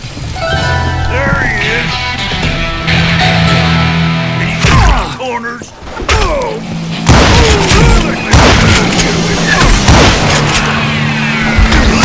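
Gunfire and booming blasts ring out in the Western shooter Call of Juarez: Gunslinger, loud repeated shots and heavy thuds over game music, with voices speaking in between.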